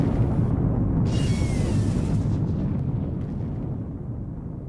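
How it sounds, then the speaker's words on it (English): Distant explosions rumble as a heavy, sustained low roar that slowly fades, with a brighter burst near the start and no clear separate blasts, loud and boomy throughout. "This is followed by 3 more explosions in the distance."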